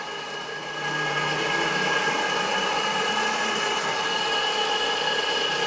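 A carpet cleaning machine scrubs and agitates a gritty line of carpet, a steady mechanical whir with a gritty hiss that starts just after the first second and runs on evenly and close by.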